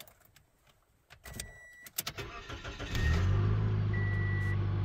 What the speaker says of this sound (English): Love a car that starts.